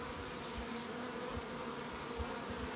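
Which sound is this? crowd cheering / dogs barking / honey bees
honey bees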